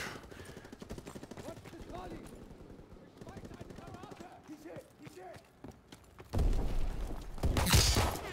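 Gunfire in Call of Duty: WW2 sounds as a rapid rattling burst through the first half, quieter scattered shots, then loud dense blasts toward the end, with a voice talking over it.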